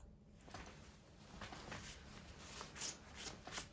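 Scissors snip straight across hair during an at-home layered bob cut, with a few faint, crisp crunching cuts spaced irregularly in a quiet room.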